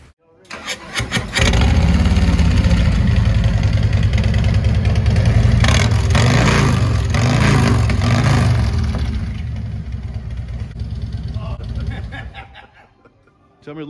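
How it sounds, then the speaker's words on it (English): A 2024 Harley-Davidson Road Glide with the 117 engine and SVT Bullies exhaust starts up close by, then settles into a loud, deep, throbbing idle with a few blips of the throttle before it dies away. People talk over the engine. "we're going to give you a little taste of this this bike and the way it sounds."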